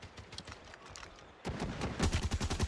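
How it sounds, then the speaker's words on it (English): PKM machine gun shots in a Call of Duty match, quiet rapid bursts at first, then a louder, denser string of automatic fire in the final second, heard at a distance with no voices. "PKM shots through the smoke"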